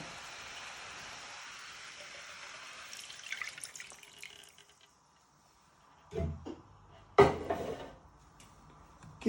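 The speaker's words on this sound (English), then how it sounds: "You're going to add a bit more water." Water added to a pan of Mongolian beef with vegetables and sauce, a brief sizzling splash followed by a louder burst of hissing and bubbling, heard alone without any talk.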